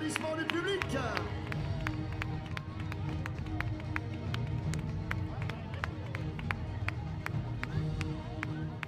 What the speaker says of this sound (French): Applaudissements du public.